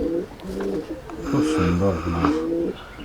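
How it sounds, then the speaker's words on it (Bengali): Expensive pigeons cooing close up, deep rolling coos repeating in several bursts, with a person briefly speaking over them. "এগুলো খুব মানে এক্সপেন্সিভ পায়রা, মানে অনেক দাম দিয়ে কেনা"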